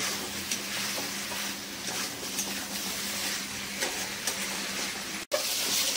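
Chicken being sautéed and stirred in oil in a pan over raised gas heat for dopiaza, a steady loud sizzle with occasional stirring scrapes and one brief sharp break near the end.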